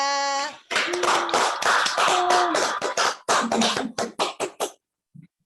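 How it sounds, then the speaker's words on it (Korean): Applause for a lecturer, Song Hyun-hee, at the close of a talk: a short burst of clapping after a brief opening, then separating into distinct claps that thin out and stop, with faint vocal tones mixed in. "오늘 멋진 강의를 준비해 주신 송현희 본부장님께 다 함께 박수 한번 보내드리겠습니다"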